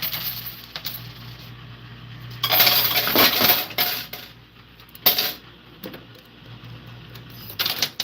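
Coins clatter and drop through a coin-handling machine in bursts of metallic jingling and clinks, with quieter gaps between the loud spills.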